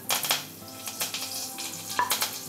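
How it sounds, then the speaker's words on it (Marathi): Curry leaves go into hot oil for a tempering for black pea sambar, giving faint crackling sizzle with a few bursts of spattering and light pan clinks, close and quiet. "मी फोडणीत आता 4-5 कढीपत्त्याची पानं घेतलंय ती घालतोय."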